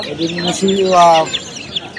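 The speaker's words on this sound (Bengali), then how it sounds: "আর এগুলো কি মুরগি বাচ্চা?" Layer chicken chicks at an outdoor livestock market give short, bright chirps in a brief burst, with voices talking over them nearby.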